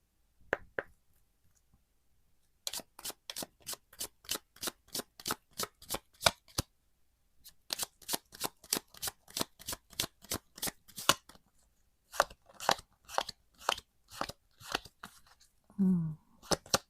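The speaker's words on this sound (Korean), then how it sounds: "레노먼트 카드 5장으로" A deck of Lenormand cards is riffled and shuffled in quick, crisp bursts of rapid flicking clicks, with several runs separated by brief pauses, close up in a quiet room.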